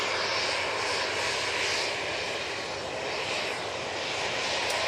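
A Ryanair Boeing 737-800 bound for Gdansk at Manchester Airport produces a continuous, fairly loud jet engine roar with a broad hiss, steady and alone with no voices.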